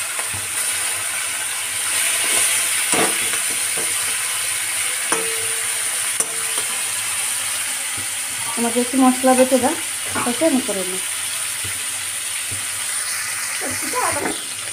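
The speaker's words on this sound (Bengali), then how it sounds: "দেখো চিংড়ি মাছটা ভাজা হচ্ছে" Large prawns fry in a pan of hot oil for a prawn curry with potato and pointed gourd, giving a steady hiss and crackle that swells in bursts of stirring while people talk over it.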